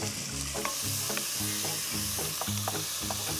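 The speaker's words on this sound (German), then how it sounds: "Dann nehmen wir ein bisschen Olivenöl. Und dann haben wir hier den Speck anbraten drin." Bacon frying in olive oil in a pan, a steady crackling sizzle with soft stirring scrapes and light clinks throughout, close and continuous with no talking.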